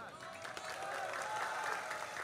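Faint, steady applause from a religious lecture audience, spread evenly and heard at a distance.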